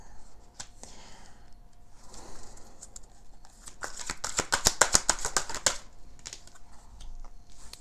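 Tarot cards are shuffled and drawn, giving soft rustling that builds into a flurry of quick crisp card flicks and snaps, close and fairly clear.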